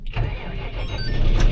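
A tractor engine cranks and catches before heading out to mow first-cut silage, settling into a steady, close, rumbling run that grows slightly louder toward the end, with no talk.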